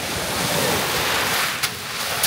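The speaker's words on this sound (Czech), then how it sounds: "jsou vlny teďka, vám to ukážu" Sea waves break on the beach at Podgora, a continuous loud wash of surf with some wind. A couple of faint clicks come near the end.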